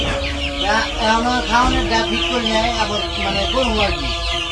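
Chickens cluck repeatedly in short, overlapping bursts nearby at a village poultry farm, with a busy background of murmuring voices.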